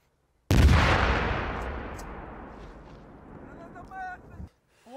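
A single loud, close gunshot or artillery blast from a Ukrainian military drill booms out and decays over several seconds, followed by brief shouted voices.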